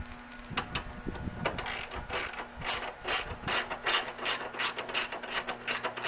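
Ratchet wrench clicking steadily as 10mm bolts come off the radiator bracket of a 1999 Jeep Cherokee XJ, a dense run of close mechanical ratcheting bursts with no talking.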